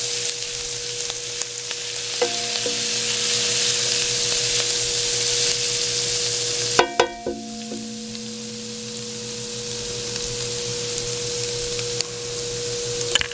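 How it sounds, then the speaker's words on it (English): Garlic sizzles in butter in a pot, a steady soft frying hiss with a few clinking stirs of a utensil midway, close and continuous with no speech. "Now I just want to saute this in the butter for about a minute."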